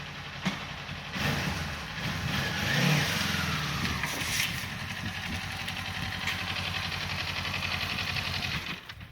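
A Kawasaki Ninja 400 motorcycle engine runs steadily inside a garage, a continuous mid-loud rumble with a slight swell near the third second and no talk.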